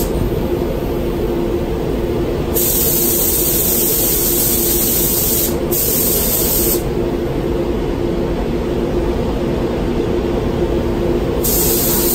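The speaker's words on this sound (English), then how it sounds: "We're ready for the second and final coat." A spray gun lays a second coat of gloss paint on a car, giving a loud, steady hiss that cuts in and out in long passes over a constant background hum.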